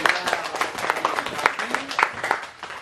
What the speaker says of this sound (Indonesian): beri tepuk tangan dulu kepada Fani ya